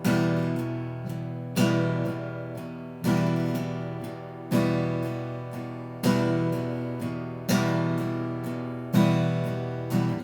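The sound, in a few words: guitar waltz strum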